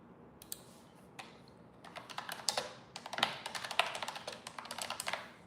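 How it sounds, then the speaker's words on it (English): Rapid typing on a computer keyboard with crisp, clicky keystrokes, starting sparse and building into dense bursts of fast taps, close and fairly quiet, with no talking. "this keyboard is so satisfying"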